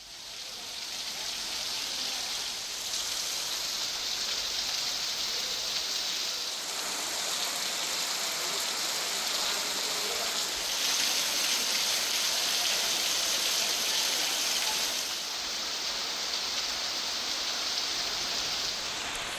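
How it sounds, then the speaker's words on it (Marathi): Floodwater pouring over a village bridge during heavy rain, a steady dense rushing roar that holds level and close for the whole stretch with no voices. "गावाजवळच्या पुलावरून पुराचे पाणी वाहत आहे।"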